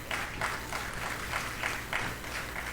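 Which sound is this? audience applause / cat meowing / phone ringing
audience applause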